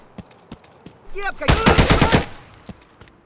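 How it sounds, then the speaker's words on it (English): Rapid rifle fire from an Escape from Tarkov firefight, a close burst of about a dozen sharp shots packed together mid-clip, with a few scattered single reports before and after and a brief voice beneath. "getting attacked by a player with a suppressed rifle, probably with an optic, is not ideal"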